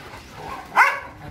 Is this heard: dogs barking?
yes